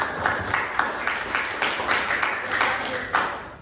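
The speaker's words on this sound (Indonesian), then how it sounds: "Kita aplaus untuk Asmail." A classroom group clapping for a student, a short ragged round of applause with uneven rhythmic claps, moderately loud and close, fading out after a few seconds.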